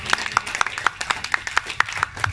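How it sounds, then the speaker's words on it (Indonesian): Applause and rhythmic clapping from an audience at a kindergarten performance and graduation, a quick run of sharp claps, fairly close, with voices mixed in. "Tepuk tangan untuk para orang tua murid."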